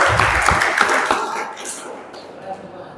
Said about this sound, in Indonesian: Tepuk tangan buat Riyad.